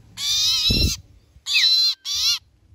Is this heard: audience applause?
no